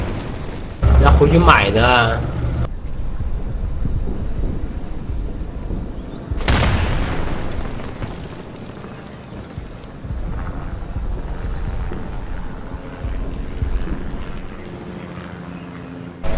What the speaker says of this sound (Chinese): 怎么那么多手雷啊？